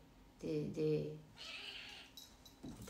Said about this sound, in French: il est gentil ce chat, mais il est gentil